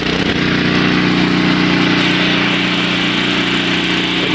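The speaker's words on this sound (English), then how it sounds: "you'll hear that the engine is kind of sputtering a little bit" A common snowblower engine runs steadily up close while warming up on partial choke, with a loud continuous drone and a slightly uneven, sputtering edge.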